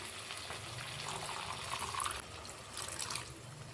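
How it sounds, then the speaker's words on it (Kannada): Cold water poured into manchurian sauce in a pan over a low flame, a soft, quiet splash and trickle, heard close with no voices. "ತಣ್ಣೀರು ಸೇರಿಸ್ಕೊಬೇಕು ನೀವು"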